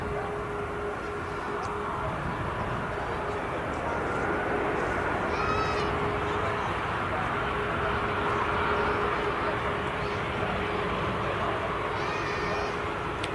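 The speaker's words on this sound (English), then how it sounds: "Another EasyJet arriving" An EasyJet airliner arriving at Manchester Airport, a steady broad jet roar held at moderate distance throughout, with faint chirps and a thin tone over it.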